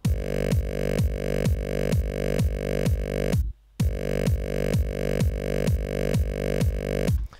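A thick, buzzy synth bass made in Massive repeats a pulsing pattern of sliding notes, loud and upfront, dropping out briefly in the middle before resuming.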